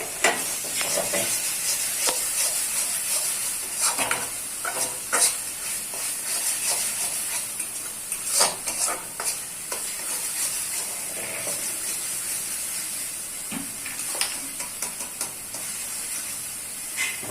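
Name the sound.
stirring and frying spice paste with salt and sugar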